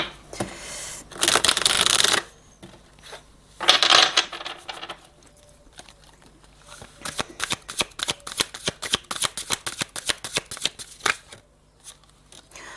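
Tarot cards shuffled for a reading, with two dense riffling bursts followed by a long run of quick, crisp card slaps and flicks close to the listener.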